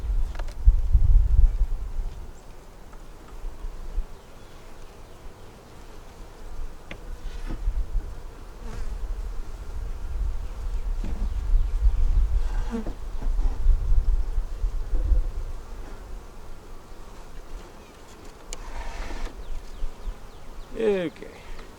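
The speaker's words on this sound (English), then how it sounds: "You got that many bees in the top, it's a good idea to look, see if there's a queen somewhere." Honeybees hum steadily in an open hive, a dense continuous drone of many wings close by, with occasional louder passes as individual bees fly near.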